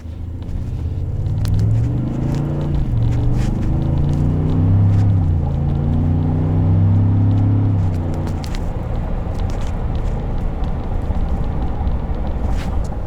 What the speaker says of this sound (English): by just putting the truck in sport mode, it does shift 1, 2, 3, 4, 5